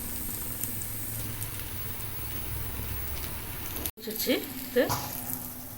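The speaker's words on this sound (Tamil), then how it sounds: "பாருங்கள் நல்லா கொதிக்குது" A steady bubbling, sizzling hiss of water boiling hard in a pot for a home remedy drink, continuous and close, broken briefly by a short gap and a couple of soft knocks.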